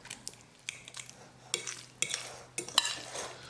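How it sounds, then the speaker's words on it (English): A fork mashes avocado in a bowl, with scattered soft squishes and sharp scrapes and clinks of metal on the bowl, a few louder taps spaced irregularly, close and fairly quiet. "With the help of fork, we're going to mash it."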